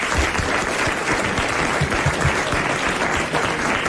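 A French television studio audience applauds a contestant, a dense, loud and continuous wash of clapping with no voices on top.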